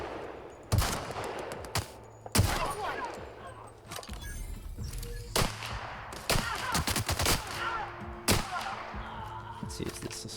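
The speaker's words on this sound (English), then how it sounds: "Let's use this assault rifle." Bursts of assault rifle fire in The Outer Worlds, several separate volleys of rapid shots spread across the stretch, loud and close, with game sounds filling the gaps between them.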